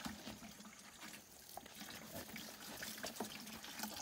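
Water poured onto dry compost while making a fast organic fertilizer, a steady close trickling and splashing flow with small irregular spatters, no talking.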